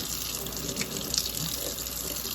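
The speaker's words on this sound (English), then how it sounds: "water flows, and it's shooting straight in" Water rushes steadily through a Ford 429 squarebore-to-spreadbore carburetor adapter, a constant close gushing like a running tap with no pauses.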